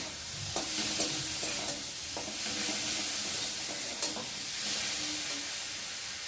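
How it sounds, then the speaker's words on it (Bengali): Maggi noodles stirred in a frying pan, with a steady close sizzle and repeated scraping strokes of a spoon against the pan. "আর এদিকে একটু নাড়তেই থাকবো"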